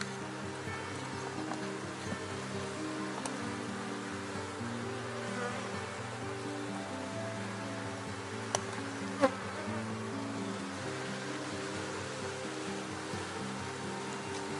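A honeybee colony buzzes steadily inside a hive box while beekeepers add foundation wax comb, a dense, continuous drone close by with a few faint clicks and knocks.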